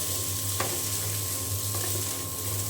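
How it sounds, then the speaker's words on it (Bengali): Khichuri being reheated in a frying pan gives a steady, close sizzle with a few brief scrapes of stirring, no voices present. "এখানে আমি যে খিচুড়িটা গরম করে নিচ্ছি"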